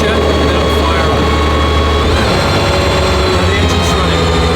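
Loud, steady high-pitched mechanical roar of an Aston Martin Valkyrie Spider engine running after start-up, dense and continuous throughout with voices talking over it.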